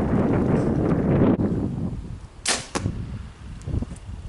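Arrow released from a Prime RVX compound bow outdoors on a windy day, a single sharp snap and whoosh heard close over steady wind noise and rustling.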